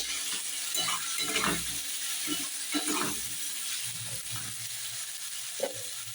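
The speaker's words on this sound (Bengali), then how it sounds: "এবার এটাকে আলুটাকে ভালো করে ভেজে নেব।" Potato pieces fry in oil with salt and turmeric, a constant close sizzle broken by repeated scraping stirs of a spatula in the pan.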